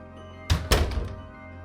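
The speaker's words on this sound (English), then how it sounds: "and the closet door shut." A closet door inside a house shuts with a heavy double thunk, two dull, close impacts in quick succession followed by a brief rattling decay over a steady low hum.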